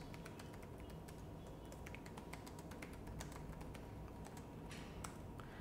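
Typing on a computer keyboard during data entry into a spreadsheet, a steady run of faint, quick key clicks against a low background hiss.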